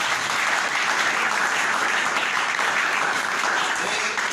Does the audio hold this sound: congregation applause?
yes